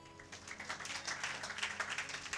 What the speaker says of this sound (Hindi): अरे ताली नहीं